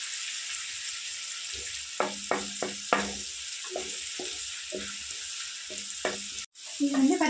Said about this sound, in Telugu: పచ్చిమిర్చి పేస్ట్ కొంచెం లైట్గా ఫ్రై చేసుకున్నాను